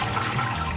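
Sparge water pours steadily into a home-brewed pilsner mash, giving a continuous close rushing, splashing wash with no breaks and nobody talking.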